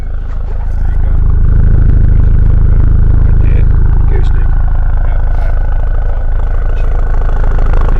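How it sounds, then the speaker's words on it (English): A Ford Focus RS 2.3L Mountune engine rumbles loudly and steadily, close to the microphone at the exhaust, with a low throbbing exhaust drone and faint clatter throughout. "exhaust acoustic with my microphone there."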